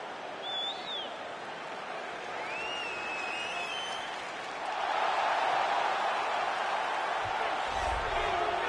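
Arena crowd in the UFC 3 video game roars and applauds as a fighter walks out, a steady broad wash of cheering that swells louder midway, with whistles on top and a commentator talking over it.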